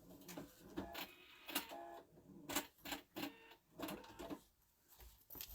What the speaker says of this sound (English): and do some more sewing so this flattens it out a little more.